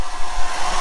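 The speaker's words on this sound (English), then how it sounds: "we could use the hairdryer" A hair dryer runs off an EB150 portable battery power station, giving a loud, continuous, breathy whoosh for under a second with no talk.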